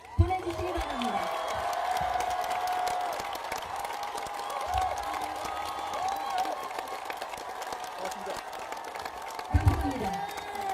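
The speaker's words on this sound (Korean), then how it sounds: "큰 박수를 보내주시기 바랍니다" Supporters at a Korean presidential campaign launch event for Han Dong-hoon clap and cheer steadily, a dense crowd roar with whoops, while a voice speaks over the noise at moments.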